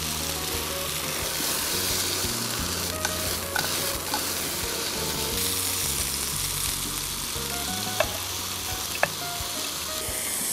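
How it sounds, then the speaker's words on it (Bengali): Broccoli sautéed in a pan with white pepper and salt, giving a steady close sizzle with intermittent stirring scrapes and a couple of sharp utensil clicks. "একটু সাদা গোলমরিচ গুঁড়া, লবণ দিয়ে দিচ্ছি, জাস্ট হালকা সতে করে নিয়ে সার্ভ করব।"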